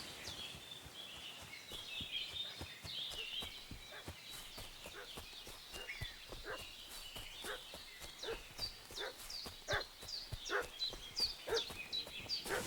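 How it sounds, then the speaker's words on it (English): A dog barks repeatedly in the medieval video game Kingdom Come Deliverance II, sharp yaps growing more frequent and insistent over an outdoor ambience with bird sounds. "What's that dog making such a fuss about?"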